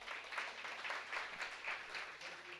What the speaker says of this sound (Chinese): 给思雨一个最大的掌声。